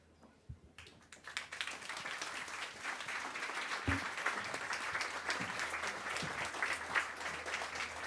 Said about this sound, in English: Big applause for our guests.